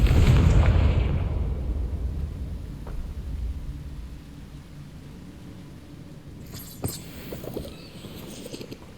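The Confringo blasting spell in Hogwarts Legacy detonates as a loud rumbling explosion at the start, then fades into a low lingering rumble with a few faint pops and crackles afterward.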